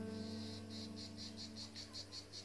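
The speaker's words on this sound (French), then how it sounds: "je suis venue un peu plus tard pour pas qu'il y ait trop le bruit des cigales" Cicadas buzz in rhythmic, evenly spaced pulses of a high shrill drone, about ten bursts over a steady low hum, faint and distant with no voices.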